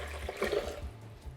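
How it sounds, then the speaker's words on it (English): Filtered water pours steadily into a pot holding peeled roasted garlic, a close, splashing liquid rush lasting about a second and then tapering off. "go ahead and add in the filtered water"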